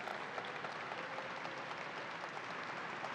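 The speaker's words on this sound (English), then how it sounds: "Let's give a round of applause to Richard Ball." A round of applause for Richard Ball at the opening of the New York State Fair, sustained faint clapping from a crowd heard from a distance, steady for the whole stretch.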